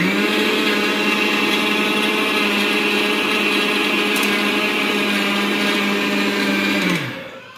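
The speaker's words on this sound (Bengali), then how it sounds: "এই যে এদিকে মেজবাবি ব্লেন্ডার করে নিচ্ছে" An electric blender grinds in a kitchen, a loud steady motor whine running unbroken for about seven seconds before spinning down and cutting off at the end.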